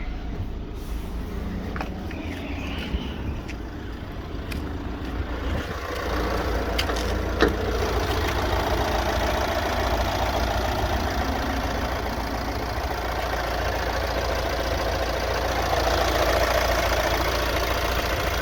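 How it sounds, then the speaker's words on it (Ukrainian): A 2019 Opel Vivaro van's 1.6 diesel engine idles steadily and smoothly, a low continuous rumble with no talking, holding a constant level throughout. "М'ягенько працює двигун."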